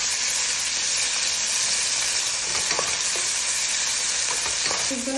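Ginger and garlic mix stir-frying in oil in a pan makes a continuous loud hissing sizzle close up, with a few soft scraping stirs toward the end.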